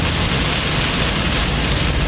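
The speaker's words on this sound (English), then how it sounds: "There's some very heavy rain now." Heavy rain pounding a car during a Florida storm chase in July 2007, a dense, loud, continuous hiss with no speech.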